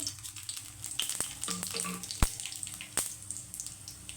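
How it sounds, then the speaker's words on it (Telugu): Bay leaves and cumin seeds hit hot oil in a pan, giving a light crackling sizzle broken by a few sharp clicks and clatters of utensils, fairly close and without speech. "ఇదిగోండి బిర్యానీ లీఫ్ అండి నేను చిన్న ఈ రెండు వేసుకుంటున్నాను కొంచెం జీలకర్ర అండి"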